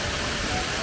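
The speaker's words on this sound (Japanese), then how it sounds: "乙女滝すごい。" Otome Falls in Nagano Prefecture pours down in a dense, steady roar of broadband splashing water, loud and continuous for under a second.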